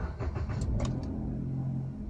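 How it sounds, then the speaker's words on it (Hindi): A 2019 Maruti Suzuki WagonR VXI AMT automatic starts with a brief cranking burst, then settles into a steady low idle close by, with no talk over it. "तो देखिए हमारी गाड़ी स्टार्ट हो चुकी है"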